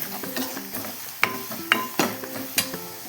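A spoon scrapes and knocks around a pan while coriander powder, chili powder and a secret masala are stirred together for dahi baingan sabzi, with a series of sharp clinks over a soft low sizzle.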